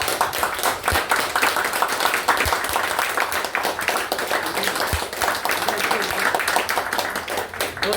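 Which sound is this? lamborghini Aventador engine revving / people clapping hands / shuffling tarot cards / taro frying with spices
people clapping hands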